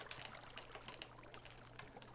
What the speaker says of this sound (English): So we've got the top of a little waterfall here